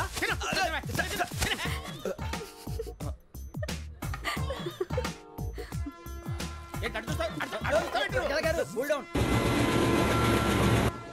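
A train runs on rails during a comedy film scene: a continuous rolling rumble sits under lively dialogue and chuckles, then swells into a louder, rushing roar near the end.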